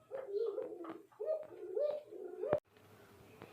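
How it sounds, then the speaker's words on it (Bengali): Pigeons at a bird farm give several soft, rolling coos in close succession, fairly near, followed by a sharp click and then a quieter stretch. "এখানে কিন্তু আরেক জোড়া কবুতর আছে"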